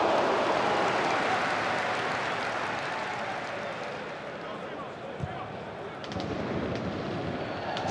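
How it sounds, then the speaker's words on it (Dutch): PSV supporters set off fireworks outside a football stadium during a match, a dense sustained roar of crowd noise and crackling bangs with a few sharper pops near the end. "Supporters van PSV die het stadion niet in kunnen laten nu zien dat ze er toch zijn. Want er wordt veel vuurwerk afgestoken."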